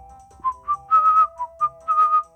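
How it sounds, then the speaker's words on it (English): A person whistles a short tune in clear, bright notes, a string of separate phrases and held tones with brief pauses between them, close and alone with no talk. "Oh, just having a whistle."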